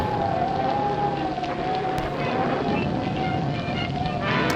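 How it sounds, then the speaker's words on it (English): Heavy rain from the SCUM video game, set in a 1940s noir scene, pours as a constant loud hiss with a steady tonal drone underneath and faint clicks scattered through. "I really love how kind of over the top the rain effects are in this."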